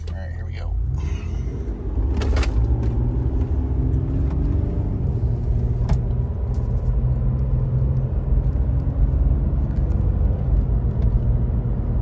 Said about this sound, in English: So we had torque converter lockup, and then harsh overdrive shift.